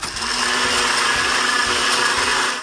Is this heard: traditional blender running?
yes